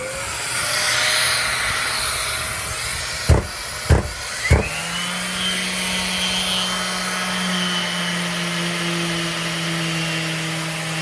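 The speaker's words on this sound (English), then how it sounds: "Turn the vacuum on." A vacuum cleaning sanded fiberglass on a boat gives a steady, loud motorized whine with a constant hum, broken by three sharp clunks in quick succession partway through.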